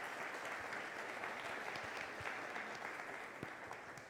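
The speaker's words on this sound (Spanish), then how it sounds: "le damos un fuerte aplauso" An audience applauds warmly at an event, with a dense, continuous patter of many hands clapping at moderate distance that holds steady for several seconds before easing slightly.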